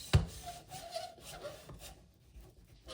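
A manual Once For All meat slicer draws a blade through beef for jerky at a 2 millimeter setting: a sharp initial clack, then a soft rasping, sawing scrape that fades over a few seconds, close and quiet.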